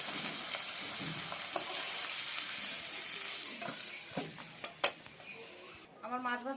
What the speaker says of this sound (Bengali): মাছ ভাজা শেষ হয়ে গেছে।